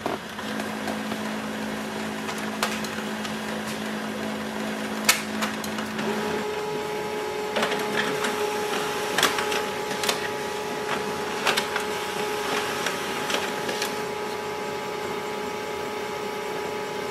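An HP LaserJet Pro MFP-3101fdw all-in-one printer makes a two-sided copy, giving a steady mechanical whir with repeated clicks and clunks from the feed. The tone shifts partway through, and no one speaks.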